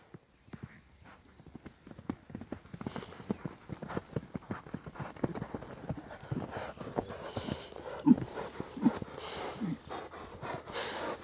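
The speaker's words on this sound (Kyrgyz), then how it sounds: "Аттын күлүктүгүн байкаңыздар, ушундай ылайда кетип атат." A horse galloping through mud, a long run of quick rhythmic hoofbeats at close range that grow louder and denser, with an occasional snort.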